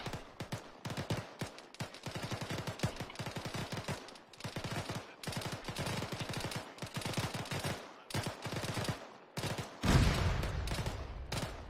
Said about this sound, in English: I see everyone firing.